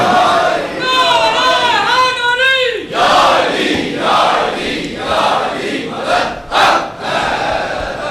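A majlis audience in Karachi shouts a loud collective response to a religious slogan, a burst of massed voices following a single voice's chant and then settling into crowd murmur.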